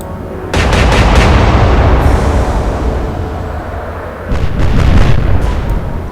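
Heavy naval guns in the Atlantic Fleet naval battle game fire armour-piercing shells, producing a loud, sustained roar of blasts that eases off and then swells again with a fresh rumbling volley.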